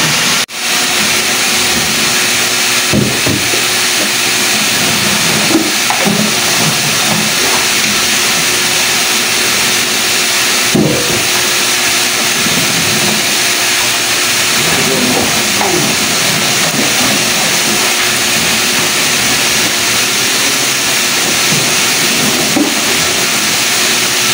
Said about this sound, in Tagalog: pasensya na kayo, maingay yung makina, nandito ako sa loob